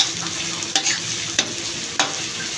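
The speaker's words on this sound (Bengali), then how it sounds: "চট্টগ্রামের মেজবানি মাংস পাকানোর জন্য পেঁয়াজ বেরেস্তা করা হচ্ছে।" Onions frying crisp in oil for Chittagong mezbani beef: a constant bright sizzle broken by three sharp, evenly spaced clacks of a spatula stirring the pan.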